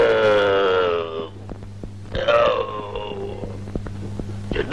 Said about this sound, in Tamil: உள்ளிருந்து ஒரு ஓங்கார சப்தம். ஓங்காரம் இல்ல, ஏப்பம்.